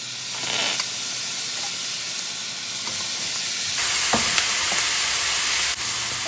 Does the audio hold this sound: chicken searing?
yes